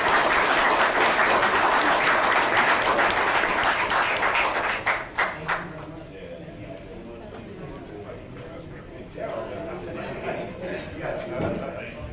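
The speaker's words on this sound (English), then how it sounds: "Good big round of applause." Big round of applause from the audience at a city council meeting, loud and dense for about five seconds, then thinning into scattered claps and murmuring room noise.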